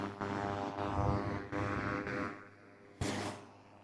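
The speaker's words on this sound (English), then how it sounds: "this is an airport and there's a lot of activities going on here" Loud, broad aircraft roar and rumble fill a busy airport apron, sustained and close, swelling and easing with a sharp burst near the end, with no voices.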